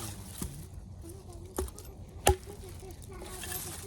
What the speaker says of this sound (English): just some de-limbing here with the Work Tuff Gear Little Evil Fighter